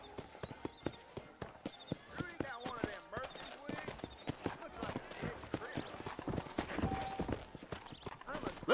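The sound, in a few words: horse hooves clip-clopping in a western video game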